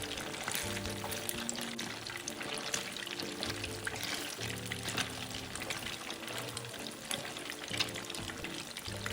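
Otak-otak tofu deep-frying in hot oil, a continuous crackling, bubbling sizzle under steady background music.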